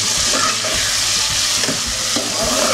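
Tomatoes tossed into frying onions for Patiala chicken gravy, a loud, dense, close sizzle with rhythmic stirring scrapes running throughout.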